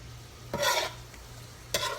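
Food stir-fried with brown sugar and jerk sauce gets tossed in a hot pan, two short bursts of scraping and sizzling separated by a quieter steady frying hiss.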